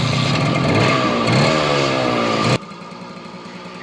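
An old FBM motorcycle engine runs loudly nearby, revving up briefly, then cuts to a quieter idle for the last second.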